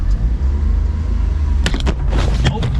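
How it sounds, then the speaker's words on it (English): A 1998 Honda Acty mini truck driving on the road, its engine and road noise a steady loud rumble heard from inside the cab, with a few short rattles and knocks toward the end. "This is my first drive in the mini truck."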